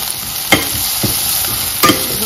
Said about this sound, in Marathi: मस्त फ्राय करून